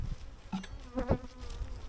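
Honeybees buzz close by in a low, fluctuating hum, with wings droning in uneven bursts and a few louder passes.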